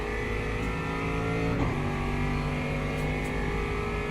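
Race cars, among them an Aston Martin and McLarens, drive in a racing video game with a steady, loud drone of engines and shifting revs, including one brief pitch dip partway through, and no talk.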